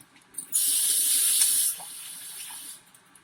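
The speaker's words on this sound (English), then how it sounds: "I'm going to wash my hands again." Running tap water gushes into a sink for about a second as hands are washed, a bright close hiss with a brief splash afterward, then quiet.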